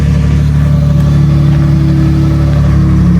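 A Toyota Tacoma truck's engine runs loud and close in a steady, even drone while the truck is moved, with no talking over it.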